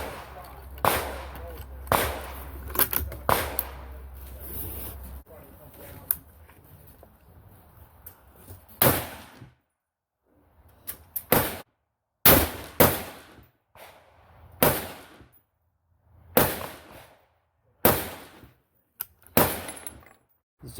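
Deer hunting rifle fired over a chronograph outdoors: a series of loud, sharp single shots spaced a second or two apart, each with a short decaying echo, with rustling and handling noise before the first shots and no talk.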